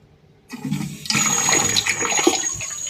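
Water rushes into a toilet cistern after a leak repair, starting abruptly with a low gurgle and then a steady, fairly loud hissing flow close by, with no talk.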